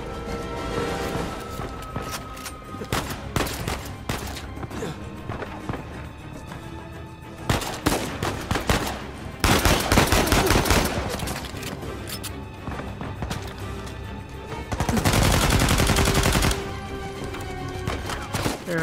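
Shotgun blasts and gunfire in an Uncharted 4 firefight: loud, irregular bursts and booms that come in dense clusters, with heavy sustained volleys around the middle and toward the end.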